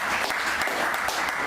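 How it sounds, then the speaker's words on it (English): Steady, dense applause from a talk-show audience greeting a guest, continuous and fairly loud throughout, with no talk over it. "Hey, clap it up for my dude, Bam 640"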